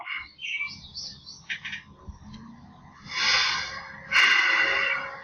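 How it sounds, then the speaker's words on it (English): Birds chirp outdoors on a sunny day, their bright calls heard faintly through walls from indoors, with louder bursts of twittering toward the end and no talking. "Birds are chirping."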